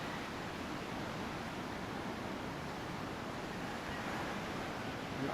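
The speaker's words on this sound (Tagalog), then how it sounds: "Malakas yung alon." Strong surf rolls at San Juan beach in San Fernando, a faint, distant and unbroken roar of waves mixed with wind hiss, with no voices.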